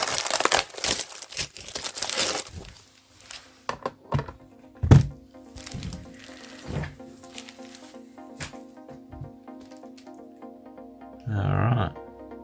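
A shipping package holding a Wii U gamepad wrapped in a towel is ripped open, with bursts of crinkling and tearing, scattered thunks and a low steady hum, and a short stretch of voice near the end.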